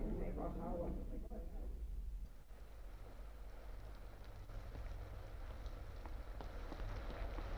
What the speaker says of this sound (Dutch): Wat een regen, hè?